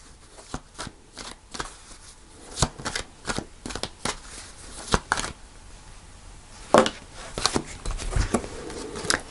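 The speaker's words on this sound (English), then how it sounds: "I'm going to pull another card for that one." Tarot cards are shuffled and pulled from the deck, giving a close run of quick papery riffles, flicks and slaps in uneven bursts with brief pauses between.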